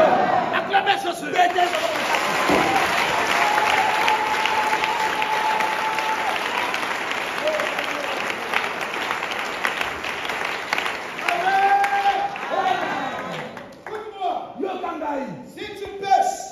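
A church congregation claps and cheers in acclaim of Jesus, loud dense applause with crowd voices that runs steadily, then thins into scattered claps and chatter near the end.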